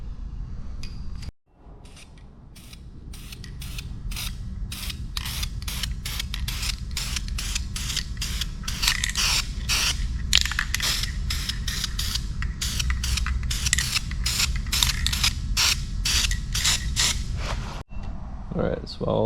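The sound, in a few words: spray painting new headlight surrounds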